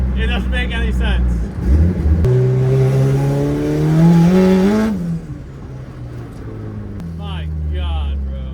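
LS-swapped VTEC Honda Civic engine, fully built for high horsepower, revs hard under light throttle, its pitch climbing over several seconds before dropping back, with loud nearby voices before and after.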